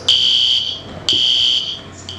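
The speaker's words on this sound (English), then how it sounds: "I'm about to pull the fire alarm." A building fire alarm sounds loud and close in two long, even electronic tones separated by a short gap, with a third beginning at the end.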